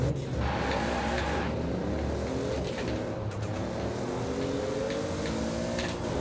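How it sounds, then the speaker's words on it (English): A turbocharged Toyota 2JZ car engine in the racing game Forza Horizon 4 drones loudly and continuously at high revs, its tone rising steadily without a break. "you could hear the turbo kicking in every now and then"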